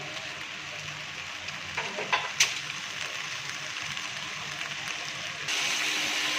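Onions browning in a pot for daigi biryani, a soft low sizzle with a few light clinks of utensils against the pot, quiet and steady.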